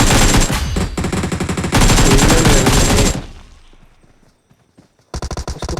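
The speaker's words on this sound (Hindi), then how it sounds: "इतनी देर में मुझे कोई और फायरिंग शुरू कर देता है मेरे पे।" Gunfire in the video game PUBG Mobile, loud rapid automatic bursts for about three seconds that fade into a sparse echoing tail and near silence, then another rapid burst starts up, with no talk.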